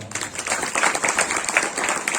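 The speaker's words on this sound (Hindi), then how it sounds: "चलो एक बार जोरदार ताली बजाओ।" An audience at a Hindi poetry gathering in a village claps vigorously, a dense, fairly loud burst of many hands applauding continuously with no voices over it.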